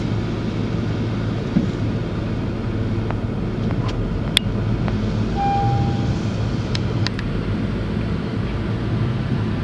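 Vehicle cabin during a test drive of a Volkswagen Atlas or Honda Pilot, a steady broadband rumble of engine and road noise as the SUV accelerates, continuous and fairly loud with a few faint clicks.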